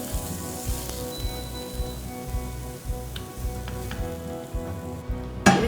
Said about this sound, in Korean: 이제 오이 충분히 볶아서 쏟을 거예요.